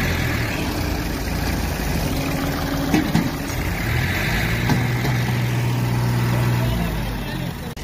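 An Al Ghazi tractor engine idles with a steady low rumble, close and constant, under noisy outdoor surroundings with people talking.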